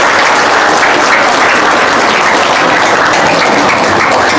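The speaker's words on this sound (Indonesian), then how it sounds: "Tepuk tangan" A crowd claps to welcome an arriving guest at a gathering, loud, close and continuous throughout, with no voices on top.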